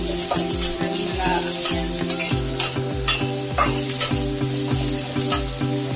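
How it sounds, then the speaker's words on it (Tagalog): Garlic, onion and ginger sauté in a pan, a loud continuous sizzle broken by rhythmic, repeated scraping strokes of a spatula stirring the pan. "Igisa na natin sa bawang sibuyas at luya"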